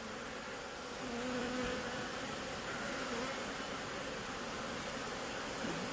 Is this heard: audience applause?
no